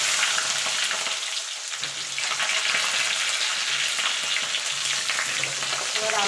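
Potatoes frying in hot oil for a vegetarian aloo dum: a loud, dense, continuous sizzle close up, with crackling spatters and a brief stir, and no pauses throughout.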